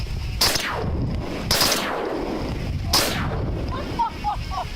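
A shotgun fires three loud, sharp blasts in quick succession during a duck hunt at the edge of a marsh in North Dakota, each boom ringing out and fading, with faint bird chirps afterward.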